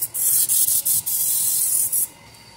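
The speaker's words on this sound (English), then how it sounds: "So, I'm going to use my spray salt." Sharp, close bursts of a salt spray misting Parmesan potatoes: several short puffs in quick succession, then one longer spray before it stops.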